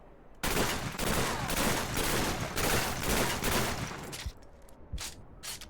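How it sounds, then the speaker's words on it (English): An M93 Raffica machine pistol fires in Call of Duty, loud rapid bursts repeating for several seconds, then a few sharp separate shots echo as it tapers off. "as the last machine pistols, we have the M93 Raffica, so that means M93 Burst, and it's like that"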